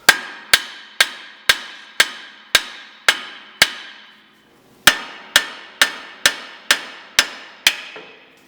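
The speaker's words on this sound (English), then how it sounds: "I had to hammer the top a bit" A hammer strikes a tie rod end on a 1991 Jeep to knock it loose during a lift install. Sixteen sharp, loud metallic blows come in two even runs of eight, with a short pause between them.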